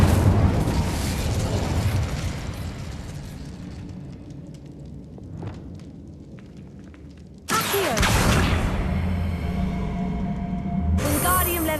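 An Incendio fire spell in Hogwarts Legacy erupts as a loud, roaring burst, fading over several seconds before a second fiery blast flares up near the end.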